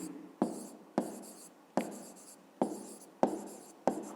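A pen writes by hand on paper while a fifth-grade maths answer is worked out, making six sharp, evenly spaced scratchy strokes, each tapering off, heard close and quiet with no talking.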